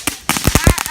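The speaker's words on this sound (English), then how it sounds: "Fireworks" Firecrackers and fireworks going off in quick succession nearby, a rapid string of sharp loud pops and crackles over roughly a second, with a voice faintly present.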